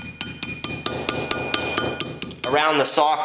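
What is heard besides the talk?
hammering a copper ring into shape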